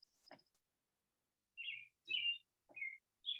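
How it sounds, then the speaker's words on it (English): Birds chirp outdoors during a live yoga class, short high tweets arriving in a few separate bursts with quiet gaps between them. "As we listen to the birds chirp."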